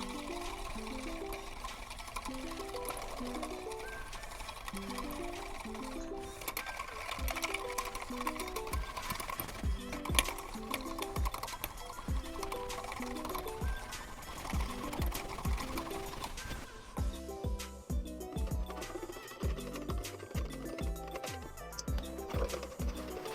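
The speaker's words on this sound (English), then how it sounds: "Gotta keep whisking." Tiramisu cream whisked by hand in a bowl: quick, regular whisk strokes with a wet, clicking rhythm keep going nonstop, close but fairly soft.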